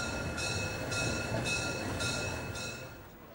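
Molli, a narrow-gauge steam train, hauls a century-old rake of historic passenger coaches from 1911 to 1926 with a steady rolling rumble and faint rhythmic clatter, then fades slightly toward the end.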